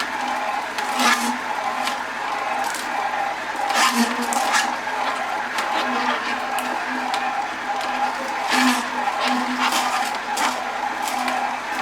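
A Hurom Elite slow juicer grinds and crushes kale, giving a steady scraping, crunching churn with repeated squeaky rubbing bursts, close and fairly loud, with no talking.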